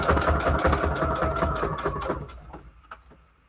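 A sewing machine stitching around a pocket made from a craft book page runs loud and close in a fast, steady mechanical whir, then slows and stops, leaving a few faint clicks.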